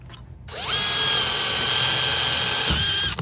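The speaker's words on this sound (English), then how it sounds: "I'm simply going to drill a hole right there. Got a 1/4 inch bit." A power drill with a quarter-inch bit whirs up to a steady high-pitched whine, runs for a couple of seconds, then winds down; close and loud.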